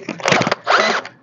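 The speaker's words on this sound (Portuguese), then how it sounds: "Até a furadeira tá achando ruim." Electric drill straining against a hard rubber tire, two short bursts of loud whirring motor with uneven bogging, close and alone.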